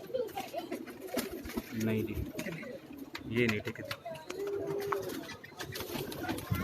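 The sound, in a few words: pigeons cooing on rooftop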